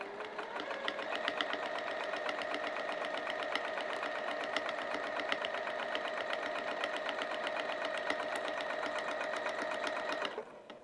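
A sewing machine fitted with a Teflon foot stitches across vinyl for a project bag, running at a steady, fast, even pace for about ten seconds before stopping abruptly, close and alone.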